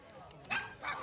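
Faint dog barks at an outdoor festival crowd: two short yelping bursts close together, set in a background of murmuring people and ambient noise.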